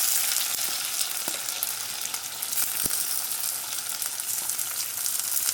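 Thinly sliced onions fry in a pan for paneer butter masala, giving a steady close sizzle with occasional crackles and stirring scrapes, no talking.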